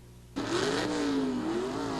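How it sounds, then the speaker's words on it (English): A big block Chevy Camaro Pro Stock drag car at the 1976 NHRA Springnationals semifinal roars in suddenly, its engine revving and climbing in pitch as it accelerates, loud and sustained with no voices. "Semifinal Pro Stock racing finds Warren Johnson of Fridley, Minnesota, here in the near lane with his big block Chevy Camaro"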